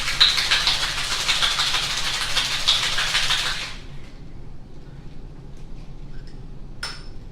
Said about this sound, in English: Pour that all in my shaker over ice, and then we'll shake this.